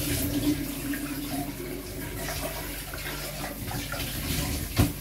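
Tap water runs steadily into a kitchen sink to rinse food during dinner preparation, a continuous moderate splashing hiss across the whole stretch with a brief louder knock near the end.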